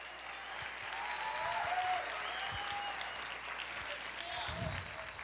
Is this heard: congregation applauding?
yes